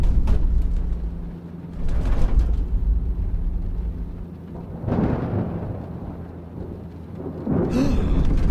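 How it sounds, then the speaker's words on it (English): A thunderstorm in an audio drama, with loud rolling thunder rumbles and a steady rain-like hiss that swell in several waves, and no talking. "There's a nasty storm brewing behind us."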